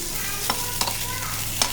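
Drumstick (nuggekai) curry fries in a pan with a steady close sizzle, broken by three or four brief scrapes or taps of a spoon stirring.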